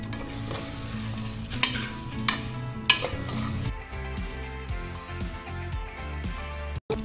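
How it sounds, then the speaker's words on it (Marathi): Toor dal and dal dumplings are sautéed in a pan, with a continuous soft sizzle, a few sharp clinks of a spoon against the metal pan, and stirring scrapes in a close, quiet kitchen. "आता आपले सांडगे आणि तूर डाळ देखील परतून झालेली आहे"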